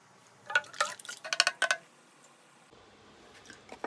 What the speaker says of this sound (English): So add in your hot water in the tin.